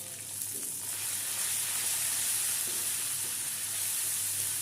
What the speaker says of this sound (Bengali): আদা রসুন বাটাটা খুব ছিটছে